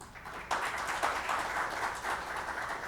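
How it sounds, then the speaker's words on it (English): An audience claps to welcome a guest at a business conversation event, the applause fairly faint and steady for under three seconds, with individual claps blurring into a soft wash. "Let us all once again welcome the guest here with a big round of applause."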